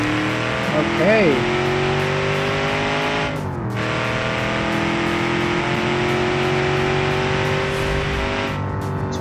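A big V8 car engine roars through a simulated BeamNG.Drive drag race, holding a loud steady drone with a gear change partway through, while someone speaks over the engine.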